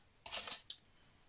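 Paper cut with scissors to make shapes for decorating a box: a short, close rustling cut followed by one crisp snip, with no talking.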